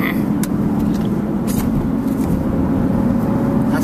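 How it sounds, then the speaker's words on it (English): Interior rumble of a car on a test drive, its engine and road noise giving a loud, constant low drone with a few sharp clicks and knocks on top. "out test driving a car right now. It makes a terrible noise."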